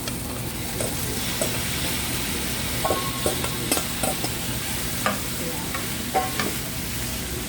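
Bottle gourd stir-fried with ground pork sizzles steadily in a pan, with a spatula tapping and scraping at irregular intervals under the hiss.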